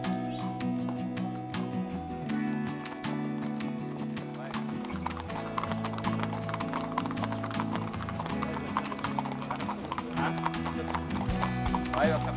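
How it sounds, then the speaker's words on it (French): A big steeplechase racehorse being readied for morning training clip-clops steadily on hard ground, close and continuous, with a neigh and a bustling stable yard behind. "c'est un grand cheval de course d'obstacles. Il va se préparer dans quelques petites secondes pour aller à l'entraînement"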